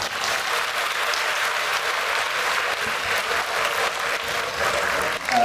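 An audience at a Buddhist centre in Hong Kong applauds, a dense steady clapping that fills the whole stretch at moderate loudness with a faint murmur of crowd underneath.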